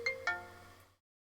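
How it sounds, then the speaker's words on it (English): A phone ringtone sounds in a cartoonist's home studio, two quick chiming notes that ring out clearly and then fade to silence within a second. "phone is ringing"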